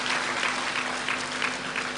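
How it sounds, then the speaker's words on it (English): Steady applause from an audience at an onboarding and matriculation ceremony, a continuous mid-level wash of clapping with faint pulsing swells and a low constant hum underneath throughout. "we give a better round of applause"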